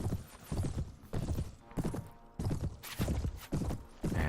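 Horse hooves gallop in a rapid, regular clip-clop rhythm in the video game Mount & Blade: Warband, loud and close, with no one talking.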